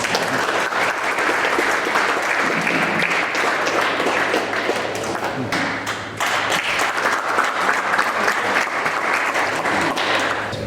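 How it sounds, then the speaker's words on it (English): Sustained round of applause from a crowd honoring race officers and crew at a yacht club regatta event, steady dense clapping throughout with a brief dip midway. "First of all, a big round of applause to our race officers and all the crew that helped us here today."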